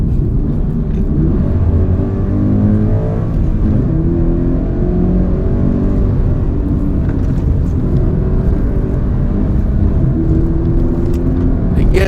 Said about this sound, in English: So you can hear the throttle blip.